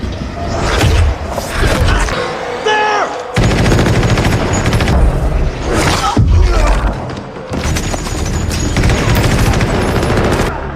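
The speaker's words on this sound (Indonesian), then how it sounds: "Pasukan pun mulai melancarkan tembakan-tembakan." Soldiers open fire in the 2016 film Spectral, with loud bursts of gunfire and booming impacts recurring throughout amid dense action scoring and effects.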